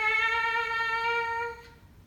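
A steady buzzing tone, rich in harmonics and held for about a second and a half, then cut off. It sounds like lips buzzing into a trumpet mouthpiece.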